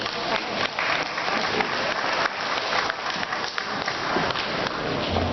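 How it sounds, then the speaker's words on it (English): Dinner guests at a Taiwanese Thanksgiving dinner applauding, continuous dense clapping from a large room of people, moderately loud and sustained without a break. "Let's give him a hand."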